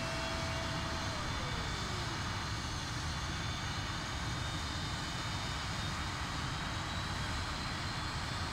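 A Su-57 jet fighter in the combat game Call to Arms gives a steady, broad engine roar that holds loud and constant throughout, with no voices.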